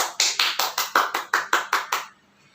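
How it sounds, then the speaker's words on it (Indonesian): A school class claps in unison in a classroom, about ten sharp, evenly spaced claps in a steady rhythm, fairly close and clear, then silence. "Beri tepuk tangan"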